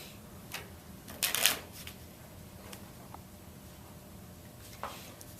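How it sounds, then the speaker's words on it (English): Playing cards, a deck with large-print faces, riffled and shuffled at close range: a short burst of crisp rapid flutter near the middle, with faint handling clicks and rustles around it in a quiet room. "Shuffling up the deck so that hopefully these cards are as mixed up as I am."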